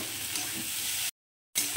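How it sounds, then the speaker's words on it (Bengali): Bitter gourd and potato pieces fry in a pan over medium gas heat, giving a steady broadband sizzle that stops abruptly into a brief silent gap before resuming. "গ্যাসটাকে খুলে রেখে এটাকে আমি এখন একটু ভাজা ভাজা করে নেব"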